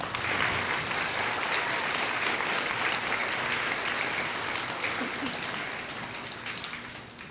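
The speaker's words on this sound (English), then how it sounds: "let's give them a round of applause" Sustained applause from a sizeable crowd, a dense wash of clapping that stays strong before tapering slightly toward the end.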